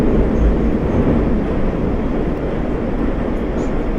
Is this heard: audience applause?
no